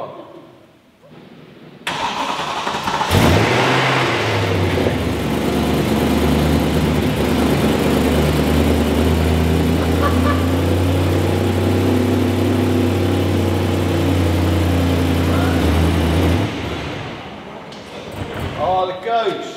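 A BMW E92 M3 car engine roars to life in minus 40 degree cold and holds a steady, loud rumble for about fifteen seconds before cutting off, with faint voices at the very end.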